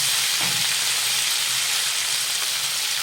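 Fenugreek leaves go into a pan of frying garlic and chili and set off a steady, loud sizzle and hiss that runs without pause and without talk.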